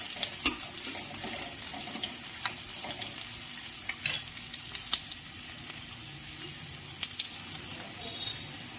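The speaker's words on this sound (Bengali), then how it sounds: "এবার রসুন কুচিগুলো দিয়ে দিলাম তেলের মধ্যে। এটা একটু ভাজা হয়ে যাবে।" Chopped garlic sizzles steadily in hot oil in a home kitchen, a continuous close frying hiss with occasional stirring scrapes and faint water sounds in the background.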